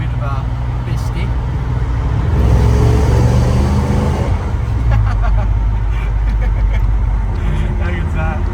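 An old-school car accelerates beneath a bridge, its engine rumble swelling into a louder, echoing roar mid-pass before settling back, heard from inside with steady low road noise and talking over it.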